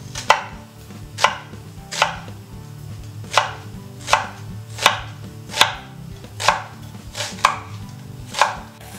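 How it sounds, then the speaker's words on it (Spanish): A knife finely chops spring onion on a board, with about ten crisp, evenly spaced cuts close up and nothing else audible. "Picamos menudita la cebolleta."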